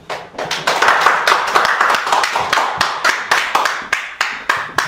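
An audience at a Saturday lecture claps steadily for several seconds to welcome a speaker, a dense patter of hands with no talking over it.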